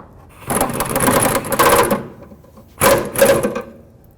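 A 15mm wrench snugs down the nut on a rear sway bar link of a 2001-2007 Toyota Highlander, making two bursts of quick, close ratcheting clicks with a short pause between them.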